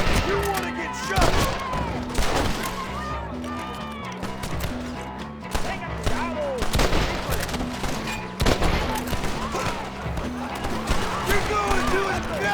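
Rapid gunfire and explosions in the video game Red Dead Redemption during a battle at a presidio, dense bursts of shots mixed with music and shouting voices.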